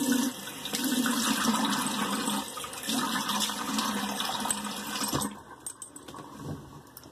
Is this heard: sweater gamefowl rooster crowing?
no